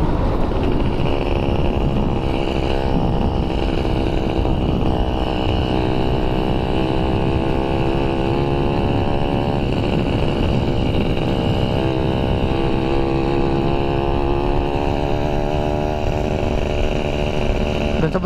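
A two-stroke motorcycle engine runs hard under riding load, a loud, continuous raspy buzz with rising and falling revs throughout, close to the machine, no talk.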